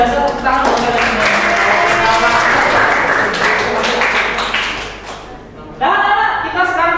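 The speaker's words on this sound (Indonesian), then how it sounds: "tepuk tangan buat kalian semua" Students applaud in a classroom lesson, a dense burst of clapping that swells, fades briefly, then picks up again, with voices mixed in.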